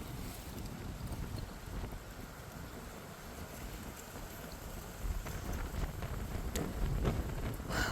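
Wind blows across an outdoor walking trail on a sunny day, giving a steady low rumbling buffet against the microphone that swells a little toward the end, with no voices.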